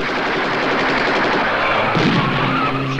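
Continuous rapid gunfire like a machine gun, a dense loud rattle filling the whole clip without pauses, from an old monster movie.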